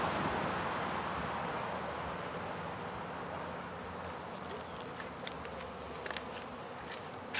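Honeybees swarm around a newly installed second hive, giving a dense, steady buzzing drone that fills the whole stretch, with a few light clicks and taps near the end.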